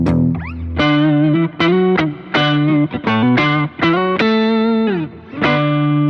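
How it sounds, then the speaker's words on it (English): An electric guitar runs through an octave-down pedal blended with the dry signal, playing a sequence of sustained, thick, slightly distorted notes and chords with short gaps between them, up close and with no talking. "I think the first one is an octave down. Yeah, so I'll do an octave sound."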